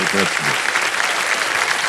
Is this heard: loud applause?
yes